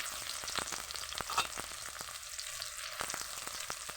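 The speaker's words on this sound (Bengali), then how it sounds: "পেঁয়াজটাকে ভালোভাবে আমি নেড়ে চেড়ে ভেজে নেব" Chopped onion frying with whole cumin in a pan sizzles steadily while a utensil stirs it, leaving scattered sharp clicks and scrapes over the constant hiss.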